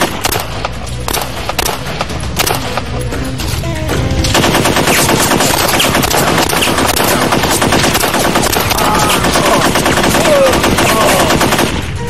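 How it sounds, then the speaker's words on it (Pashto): Sustained machine-gun fire in a Pashto war drama, sparse shots at first, then a dense, loud continuous burst of automatic gunfire from about four seconds on, with no voices. "دا ډزې څوک کوي؟ څه خبره ده؟"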